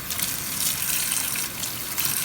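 Cold tap water gushes steadily over rinsed canned beans in a colander, a close, continuous splashing rush with no voices.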